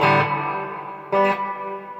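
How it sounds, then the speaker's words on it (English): A guitar played through a reverb patch on a Zoom MultiStomp pedal rings out in two struck notes, each decaying into a long washy tail, with no voices. "basically just like a reverb kind of a thing"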